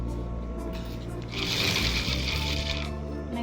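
Jute bag edges being stitched on a sewing machine, a steady mechanical whirr that swells for about a second and a half mid-clip over a constant low hum, with no talking.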